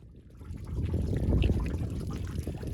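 Spring water at Barrel Springs trickles and pours gently in a steady low wash, close and moderately quiet, with no voices.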